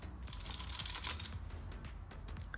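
A loose valve flap from a car rattles as the part is shaken by hand, a quick run of light, close clicking taps in an irregular back-and-forth rhythm, with no talking.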